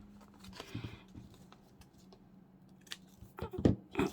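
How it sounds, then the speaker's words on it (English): Scissors snip through vellum paper at a craft table, giving a few brief crisp cuts near the start and a cluster of sharper, louder snips toward the end, with light handling rustle in between. "I think I'm going to cut that bit off"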